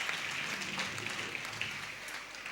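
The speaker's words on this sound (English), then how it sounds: "I would like you all to give a big applaud for all these people" An audience applauding at a school cultural program, dense continuous clapping from many hands, steady and fairly close throughout.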